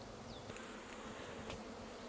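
Honey bees buzz steadily from an open hive full of frames, a dense, quiet hum of many insects close by with no voices.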